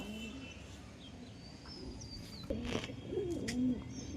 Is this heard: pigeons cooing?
yes